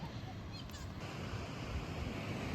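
Atlantic Ocean surf rolling in at the north end of Atlantic Beach, North Carolina, a steady broadband wash of breaking waves with some wind buffeting, no talk.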